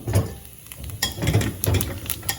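Fennel seeds dropped into three ladles of hot oil in a pan for a snake bean and chickpea curry, giving bursts of sizzling crackle with soft utensil knocks and stirring, close and fairly loud.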